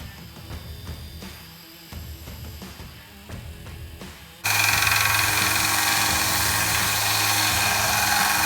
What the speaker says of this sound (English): Okay, so it's now time to grind the bevels.